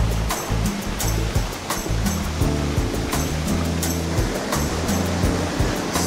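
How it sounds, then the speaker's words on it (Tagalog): Rushing water from several waterfalls along a mountain trail on Mt. Pinatubo, a steady, loud, broadband roar with no break and no voices. "Ang daming waterfalls dito, no?"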